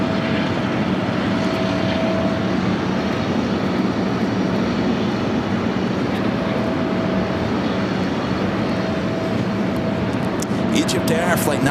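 Steady, loud jet roar of an EgyptAir Boeing 777-300ER arriving at JFK from Cairo, a continuous broadband rumble with a faint whine running for the full length, nearby and unbroken.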